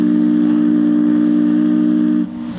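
A loud, sustained whistle blast from the Chautauqua Belle steamboat holds a steady tone, then drops abruptly to a lower, quieter pitch near the end.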